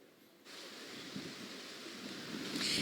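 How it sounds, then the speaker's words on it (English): Strong wind from Tropical Storm Beryl gusts across Pleasure Island, a faint, steady broadband rush that swells abruptly after a quiet start and builds toward the end. "it's a lot more windy than what it was the last time we spoke to you"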